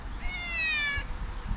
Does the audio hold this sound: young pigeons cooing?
no